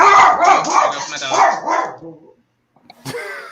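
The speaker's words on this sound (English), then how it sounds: "it's usually when someone walks by the hallway is when he barks" A dog barks in a burst of repeated close, loud barks and yips, then falls quiet before a brief final sharp sound.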